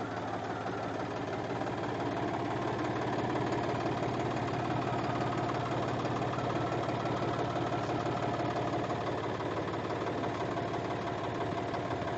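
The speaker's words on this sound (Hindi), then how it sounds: "बिगड़ ड्राइवर के ट्रैक्टर चले" A driverless automatic tractor's engine runs steadily at idle-like speed, a continuous close rumble with a faint knocking vibration and no voices.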